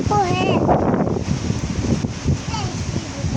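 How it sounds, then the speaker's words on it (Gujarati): Strong, gusty wind roars steadily across the microphone outdoors on a stormy night, with people talking over it throughout. "બહુ છે પવન."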